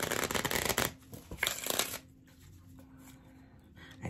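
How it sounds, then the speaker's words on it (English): Tarot cards being shuffled by hand, a dense burst of riffling for about two seconds, then quieter soft handling and faint rustle against low room tone. "let's give these some shuffles"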